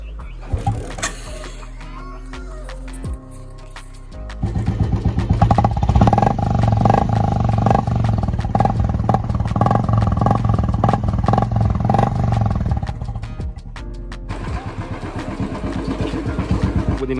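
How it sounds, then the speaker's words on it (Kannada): A motorcycle is kick-started with a few mechanical clicks and thumps, then its engine catches and runs loudly and steadily at close range before easing slightly toward the end. "kick start"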